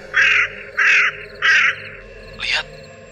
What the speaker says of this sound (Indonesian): burung gagak tersebut justru mengeluarkan suara yang sangat berisik